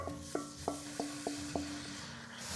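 Ground meat stirred into bloomed chili spices in a pan, a quiet low sizzle with about six evenly spaced scrapes and taps of the spoon against the pan over a few seconds.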